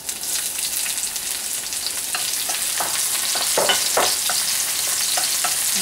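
Garlic and onion sauteing in a hot pan for pancit canton stir-fried noodles, a loud steady sizzle with occasional scraping stirs from a utensil, close up and without talk.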